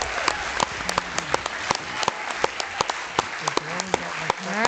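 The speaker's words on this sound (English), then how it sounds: "Can we get some big applause here?" Audience applause at a political candidates forum for gubernatorial hopefuls, a mix of sharp separate claps over a bed of background murmur and voices, moderately loud and uneven.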